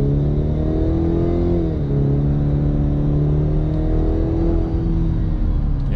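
A 2024 Cadillac CT5 four-cylinder engine in sport mode accelerates, a loud, close, steady drone from inside the car whose pitch dips briefly as the gear shifts, then climbs again, with no talking.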